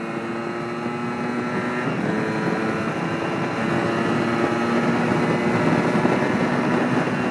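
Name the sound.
Yamaha DT 125 motorcycle engine revving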